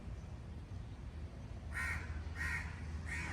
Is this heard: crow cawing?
yes